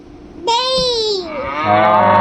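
A cow gives one loud, drawn-out moo close by, rising and then sagging in pitch, followed by a lower, rougher continuation that lasts about a second and a half.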